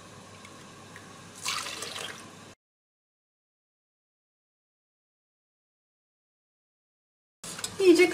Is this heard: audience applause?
no